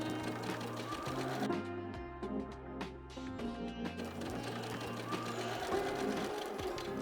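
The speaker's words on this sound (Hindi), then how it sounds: "हम इसके दोनों तरफ सिलाई करेंगे, स्टिच करेंगे" Sewing machine stitching along both sides of a seam on a meditation mat, a steady close mechanical whir with rapid needle chatter and slight speed changes, running continuously with no talking.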